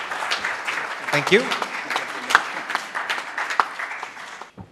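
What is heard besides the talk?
round of applause for Shri R.T. Chari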